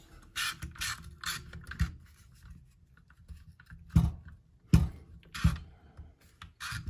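A wrench tightens a bolt while installing an A3 Tactical Triad bullpup stock, a series of close ratcheting clicks in bursts with thumps and handling knocks between, fairly quiet room.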